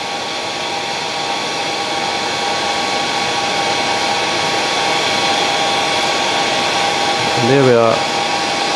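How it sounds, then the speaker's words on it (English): A hairdryer blows steadily over a freshly tied fly, a loud continuous whirring rush of air, with someone speaking briefly near the end. "So I've got the old hairdryer here, you can see it. I'm just going to blow it through the fly."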